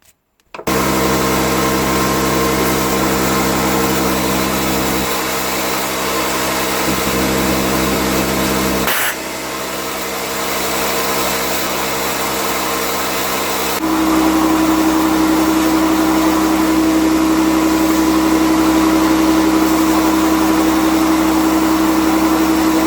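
A compressed air line blows years of grime off Triumph Bonneville brake caliper parts, a loud continuous hiss that holds steady, breaks briefly near the middle, then returns with a stronger tonal whistle toward the end.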